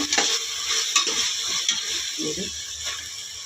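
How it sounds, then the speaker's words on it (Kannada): Tomatoes for a dhaba-style green gram dal frying and being stirred in a pan, scraping stirs and clicks over a light, steady sizzle, close by. "ಚೆನ್ನಾಗಿ ಫ್ರೈ ಮಾಡ್ಕೊಳ್ಳೋಣ ನಾವು ಚೆನ್ನಾಗಿ ಬೇಯಲಿ"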